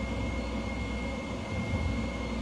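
An F-15 jet landing in Microsoft Flight Simulator 2020, with a steady, loud, dense engine roar and rushing wind that stays unbroken throughout.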